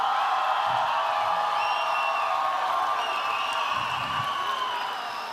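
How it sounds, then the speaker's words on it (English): Crowd at a live fight event applauding and cheering both fighters before the judges' scorecards are read, a dense sustained roar with whistles and whoops over steady clapping that fades slightly toward the end. "a round of applause for both of these fighters"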